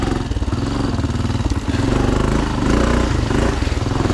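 Honda 500 motorcycle engine revving loud and close, a rough, pulsing roar that dips briefly as it bogs down, then picks back up.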